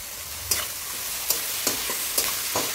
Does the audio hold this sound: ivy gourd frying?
yes